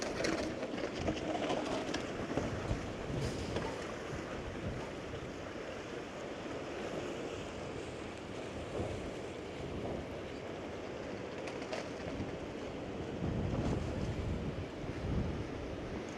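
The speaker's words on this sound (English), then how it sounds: "Bit of churn in the sea." Rough sea surf churns continuously during Storm Darragh while gusty wind rumbles across the microphone, steady and fairly loud throughout with no voices.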